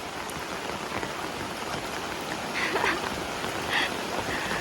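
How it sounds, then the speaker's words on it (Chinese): Heavy rain falls onto a yard where ducklings play in water beside a hen under a cloth shelter, a dense, steady hiss of drops close by with a few brighter splashes. "这么大的雨"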